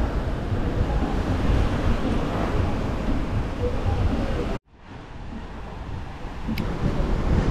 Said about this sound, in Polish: Mocno wieje, ale to od morza bryza.